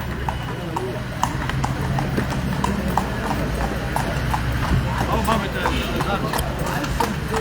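Steady clip-clop of a carriage horse's hooves on pavement in Aleksandria, evenly paced and fairly close, with people talking over it and a faint whinny.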